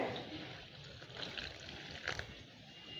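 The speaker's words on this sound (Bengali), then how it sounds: "এবার এই নুন পানিটা দিয়ে দিচ্ছি একটু একটু করে" Salt water trickling little by little into flour dough for bhapa pitha, a soft, close, quiet liquid pour with faint wet dribbling against a low hiss.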